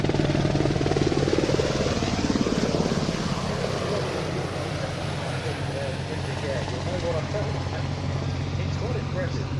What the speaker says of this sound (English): These helicopters, when they were in RAF service, provided 24-hour search and rescue cover